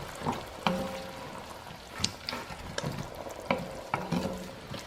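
Onion, red pepper and garlic sizzle in a pan as a spoon stirs them, giving several distinct clacks and scrapes against the metal over a soft, steady frying hiss.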